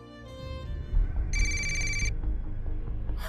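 A telephone rings steadily over a low background bed during a call, its bright electronic tone clear and close.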